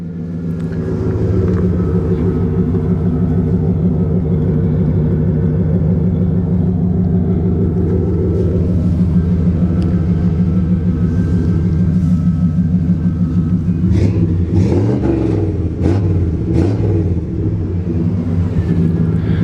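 A 1993 Chevy Silverado truck engine with a new muffler system idles with a steady, loud low rumble for most of the stretch, then picks up some uneven revving and throttle blips near the end; no talk is heard over it.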